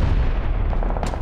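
A grenade blast in the PUBG video game gives a loud, heavy, booming rumble that fills the short moment, close and dense with low-end energy.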